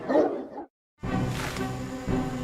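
Dogs of war in an ancient Roman army setting, barking in a short burst followed by a brief silence and then a sustained loud, dense stretch of barking and growling noise.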